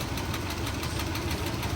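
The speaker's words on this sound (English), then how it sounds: "That to me sounds like lift or tap coming from the top end of the engine" A BMW V12 750 engine idling with a steady, fast ticking tap from the top end, close and moderately quiet, with no voices.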